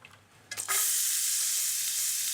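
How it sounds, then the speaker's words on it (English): French shallots sizzle steadily in a hot pan just used for chicken cutlets, a bright, loud frying hiss that rises suddenly after some clinking and then holds evenly. "while we just very briefly cook off our French shallots"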